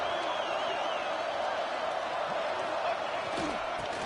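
Steady roar of a stadium crowd at a college football game during a third-down play, a dense continuous wash of voices at moderate loudness, with no distinct cheers or claps standing out.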